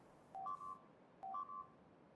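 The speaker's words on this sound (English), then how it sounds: "Ignore the loud beeping." Two short electronic beep sequences in a video game, each a quick stepped run of tones with a clear gap between the pair.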